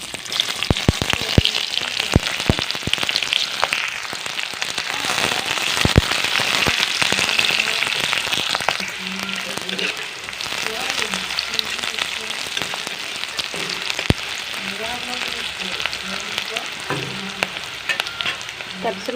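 Green chilies and finely chopped onion sizzle steadily in hot oil, a dense crackling hiss with scattered sharp pops and occasional stirring throughout.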